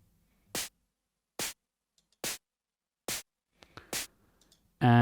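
An unprocessed psytrance snare synthesized in Sytrus plays alone: four crisp noise hits at an even pace, then a few softer clicks and a brief sustained tone at the end.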